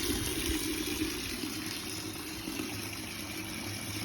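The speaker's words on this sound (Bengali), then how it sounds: "জলটা ভর্তি করি" Water runs steadily into a container for a garden, a continuous hissing flow with a low engine-like hum underneath, even and unbroken throughout.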